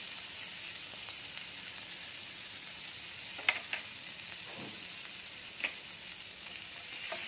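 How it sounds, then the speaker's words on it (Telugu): Garlic pieces fry in melted butter in a pan, producing a constant soft hiss with occasional light taps and scrapes from stirring. "దాంట్లో బటర్ వేసి బటర్ని మెల్ట్ చేసుకుంటాం. మనం తీసుకున్న గార్లిక్ పీసెస్ని"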